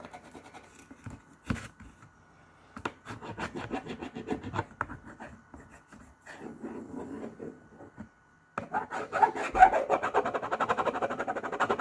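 Rubbing and scraping strokes on a DIY Halloween sign as a transfer is rubbed down, irregular close bursts with short pauses, growing steadier and louder toward the end.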